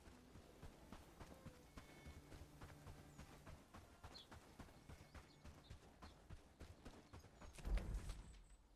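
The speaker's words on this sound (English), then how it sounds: "there's a horse walking on Crasmere" Hooves clip-clop steadily from a walking horse in a medieval strategy video game, faint and even-paced over a quiet background, with a louder thump near the end.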